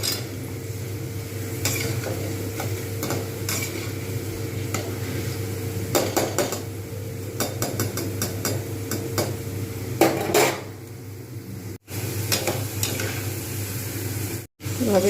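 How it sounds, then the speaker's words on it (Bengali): Potato strips for crispy fries deep-fry in plenty of hot oil, a dense continuous sizzle with repeated scraping and knocking as they are kept stirred in the pan, close and steady, with no talking. "কিন্তু আমাকে এটাকে নেড়ে যেতে হবে থামালে কিন্তু চলবে না আর এই রকম ছাঁকা তেলে দুটো তেলে ভাজতে হবে"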